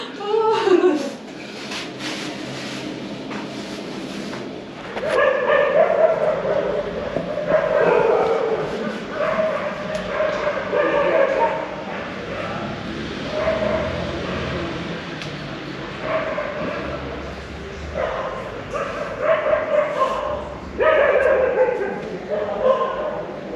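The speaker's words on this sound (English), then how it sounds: "The battle between local dogs is raging tonight." Local dogs fighting and barking at night on Palolem beach, a run of yips, barks and whimpers of varying loudness and distance rising and falling over steady background noise, with some voices mixed in.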